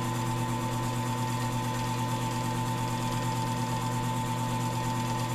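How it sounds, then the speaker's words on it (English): A belt-driven wood lathe runs steadily while a pen is finished, giving a constant close mechanical hum with a sustained tonal whine and no pauses. "I've got a belt-driven lathe"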